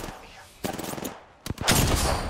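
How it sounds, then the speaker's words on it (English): Automatic gunfire from the video game Apex Legends erupts in two loud bursts, a rapid rattling spray of shots followed by a brief pause and then a heavier, sustained volley close up. "Shots fired."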